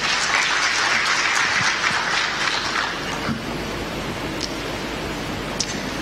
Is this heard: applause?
yes